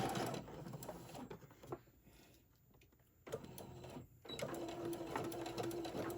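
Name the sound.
sewing machine sewing a seam on a bear's leg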